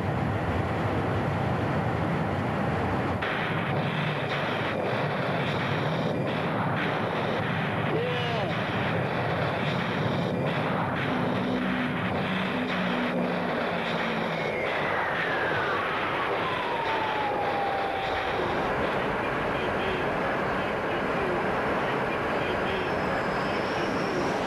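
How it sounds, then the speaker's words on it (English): An A-6 Intruder attack aircraft's jet engines roar as a steady, broad rumble that stays loud throughout, with a narrator talking over it and a falling whine partway through. "As the Intruder hurtles toward the target"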